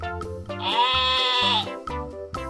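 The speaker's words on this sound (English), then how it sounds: "Sheep." A sheep bleats in a long, wavering, nasal cry, close and loud, framed by a few shorter rhythmic sounds before and after.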